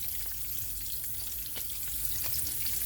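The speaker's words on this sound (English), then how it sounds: "So I'm cooking some. Uh, I call them whole fried eggs." Whole eggs frying in a pan, a steady close crackling sizzle with small pops, continuous throughout with no talking.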